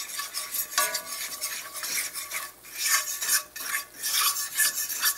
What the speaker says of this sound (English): You got to stir it pretty good so you can cook that flour up.